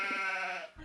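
A single drawn-out sheep bleat, close and clear, lasting under a second and fading at the end, with no other sounds around it.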